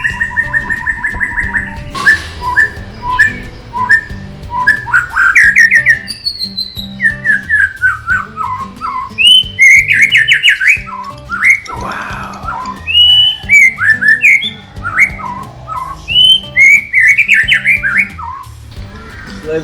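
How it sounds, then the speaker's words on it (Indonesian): A white-rumped shama (murai batu) sings loud, varied whistles and chirps over a busy background with other birds calling and steady low noise. "murai batu."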